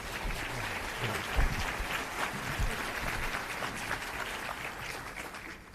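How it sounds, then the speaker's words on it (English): Audience at a business summit giving a round of applause, a continuous fairly quiet wash of many hands clapping with no voices over it. "if we can give a warm round of applause before we start with the questions"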